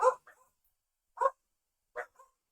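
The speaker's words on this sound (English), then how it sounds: "Dogs be barking" Three separate dog barks spaced about a second apart, clear and fairly close with silence between them.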